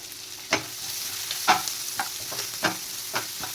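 Dill leaves, green chillies and chopped onion fry in a pan, with a steady close sizzle broken by several soft stirring scrapes and clacks, no voices.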